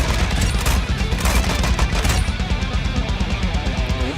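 Rapid automatic fire from a Tec-9 machine pistol in Call of Duty Warzone 2.0, a loud, dense burst of shots running continuously with clattering impacts layered over it.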